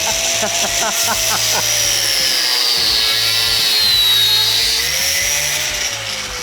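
A power tool cutting through a $100,000 bobbed Jeep whines with a wavering, revving pitch over a pulsing low mechanical chatter, loud and close throughout.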